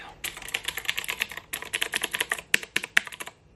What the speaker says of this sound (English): This is actually a kind of a fun mechanical keyboard for those of you guys who are into that.